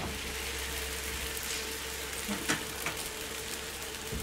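A rolled puran poli sizzling in ghee on a hot pan over a medium flame, a steady close hiss with a few soft pops and no talk.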